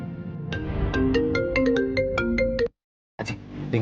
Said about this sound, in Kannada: ಅಜ್ಜಿ, ರಿಂಗ್ ಆಗ್ತಿದೆ